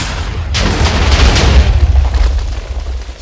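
Explosions from rocket launchers in the Minecraft Flans Mod: after a short quiet start, one loud boom lands and then a long rumbling roar with crackling bursts rolls on and slowly fades.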